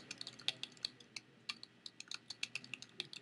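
Steady bursts of quick, light clicks from a computer keyboard as a board title is typed, uneven rhythm with short pauses, close and quiet, no talking.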